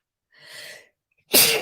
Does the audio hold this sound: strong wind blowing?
no